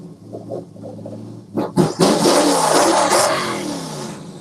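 A car engine rumbles low at first, then revs up sharply with a couple of loud bursts before settling into a sustained, loud roar close by.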